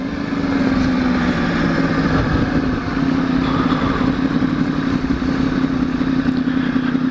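A motorcycle ridden on a college commute runs with a steady, loud mid-pitched engine drone and rattling clatter, continuous and close throughout, with no talk over it.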